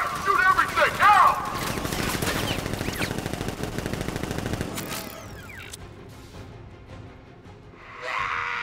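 Automated sentry gun turrets open fire in the Batman: Arkham Knight video game, a dense, rapid burst of gunfire that runs for about five seconds, then drops away to quieter ambient game sound.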